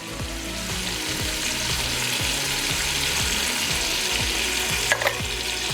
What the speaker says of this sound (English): Just gonna give that a little stir.